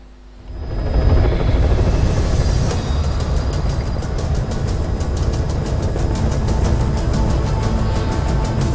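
A helicopter in the Metal Gear Solid V video game arrives at a landing zone, its loud rotor thumping rising in quickly and holding steady, with rapid regular chopping beats prominent throughout.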